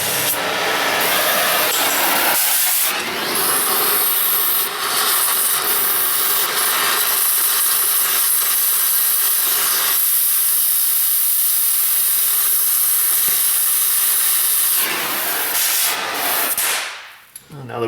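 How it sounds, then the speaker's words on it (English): A cutting torch hisses loudly and continuously while cutting off sway bar links on a Ford Taurus sedan during a rear strut job, a steady roaring spray with brief shifts, fading out at the end. "I'm just going to take the torch and just nip these off while we have it out"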